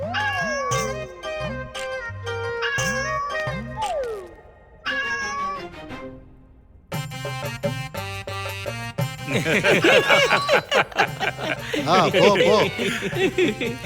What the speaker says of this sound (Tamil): மகாராஜா இந்த பூனை எவ்வளவு குண்டா இருக்குன்னா கண்ணுக்கே தெரிய மாட்டேங்குது